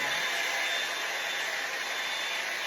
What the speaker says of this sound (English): I'm going to turn on my blow dry brush